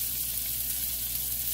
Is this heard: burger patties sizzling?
yes